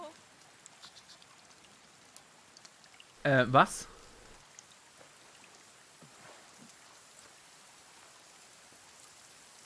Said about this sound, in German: Der Regen ist ja super laut.